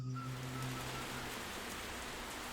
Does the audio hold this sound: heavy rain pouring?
yes